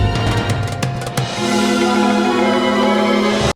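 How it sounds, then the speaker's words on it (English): A clarinet trills rapidly between a note and its tritone in an odd, tense musical passage, with sharp accents early on before a sustained, steady tone carries to an abrupt stop. "That sound you're hearing is a clarinet doing a trill between a note and its tritone."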